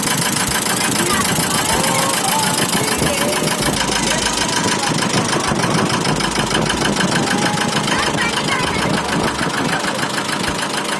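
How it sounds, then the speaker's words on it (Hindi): Engine of a small ferry boat on Tapola lake, a steady, loud mid-pitched idling drone with a rough knocking pulse running continuously, with voices chattering over it. "we are going to have a ride here, a small ferry ride"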